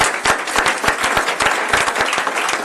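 An audience at a talent event applauds for a contestant, a loud, lively round of clapping with sharp individual claps standing out near the listener over the crowd's dense wash.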